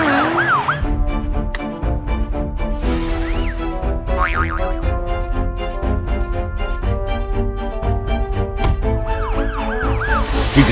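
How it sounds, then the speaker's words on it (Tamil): Cartoon ambulance siren from a Tamil children's animation, loud wailing tones rising and falling repeatedly over a busy musical score with bouncy boing effects, continuous throughout. "சீக்கிரமா ஆம்புலன்ஸ் அனுப்புங்க"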